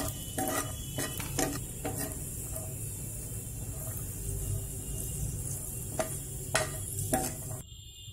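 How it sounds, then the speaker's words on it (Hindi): Paneer pieces frying in about four tablespoons of hot mustard oil for a paneer aloo sabzi, a close crackling sizzle with repeated sharp spatula clinks and scrapes against the pan, no voices. "तेल मेरा गर्म हो गया है, अब मैं एक एक करके पनीर को डाल रही हूँ।"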